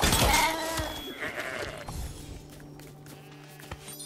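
A sheep in Lego Fortnite lets out a loud, close bleat at the start, followed by quieter game ambience and a faint thud or step.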